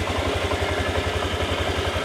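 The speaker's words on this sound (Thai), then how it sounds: "เสียงเครื่องนะครับเงียบเดินเบา นิ่งนะครับผม" A Honda Click 125i scooter engine with stock exhaust idles steadily nearby with an even, rapid low putter that stays constant throughout.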